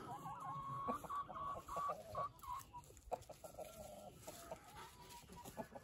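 Several chickens cluck and murmur nearby on a homestead in a steady, overlapping chatter, with a brief pause midway before the clucking resumes.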